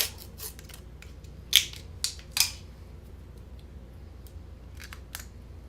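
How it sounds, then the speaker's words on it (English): A few sharp plastic clicks as a cartridge snaps into a power supply, a firm snap followed by two quicker clicks, close by and clear against a quiet background. "The cartridge locks in really nice."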